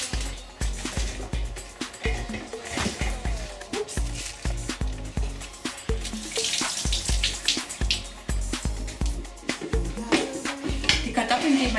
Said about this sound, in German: Und jetzt gebe ich die Zwiebeln und das Kraut in den Topf.